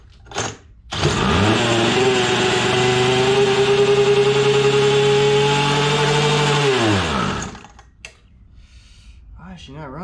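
A small two-stroke engine running on diesel fuel sputters to life and runs at a loud, steady buzzing drone for several seconds, then dies down abruptly, followed by faint sounds.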